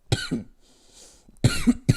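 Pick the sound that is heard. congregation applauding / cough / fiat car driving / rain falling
cough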